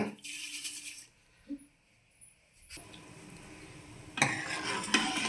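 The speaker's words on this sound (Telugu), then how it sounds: "మరుగుతుందండి" Jaggery syrup with a little sugar bubbling in a pan while being stirred, with bursts of frothy hissing and light utensil scraping separated by a quieter stretch.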